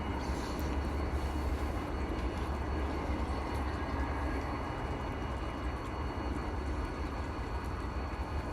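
A long freight train rolls steadily past, a continuous broadband rumble and rattle of railcars that holds at an even level without a break.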